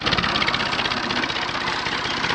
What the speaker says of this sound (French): Le tracteur est arrivé.